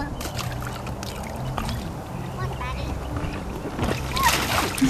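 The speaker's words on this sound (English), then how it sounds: "You like splashing, Maddie?" A child splashes water in a swimming pool, with steady busy splashing and churning close by. Voices talk over it, and a louder burst of splashing comes near the end.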